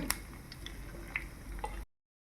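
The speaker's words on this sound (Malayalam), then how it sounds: "ഒരു സിമ്മിൽ വെച്ചിട്ടാണ് ഞാനിത് ഫ്രൈ ചെയ്തെടുക്കുന്നത്" Marinated chicken pieces frying on low heat in a pan with curry leaves, giving a steady soft sizzle with a few faint crackles and pops, close by and fairly quiet, ending abruptly in silence.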